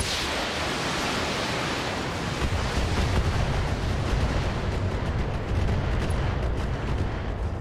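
Mechs in the PC game Battletech unleash all weapons at once, a loud continuous roar of blasts and rumbling explosions that holds steady throughout with no pause.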